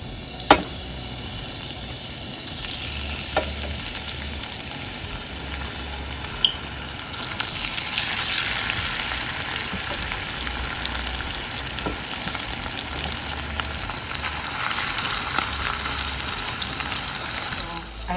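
Sofrito sizzles in olive oil in a pan, a steady bright crackle with a few knocks and clinks early on, swelling louder midway and holding a continuous hiss to the end.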